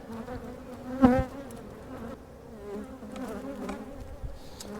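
Steady low buzzing from many honeybees around a hive in midsummer, continuous and fairly close, with a brief louder swell near the start as one passes by.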